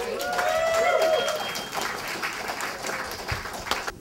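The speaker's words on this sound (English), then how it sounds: "Can I get a round of applause for them?" Audience applause at a congress on international social movements, a broad wash of clapping that stays fairly steady and then thins out, with some crowd noise and a few whistle-like tones early on.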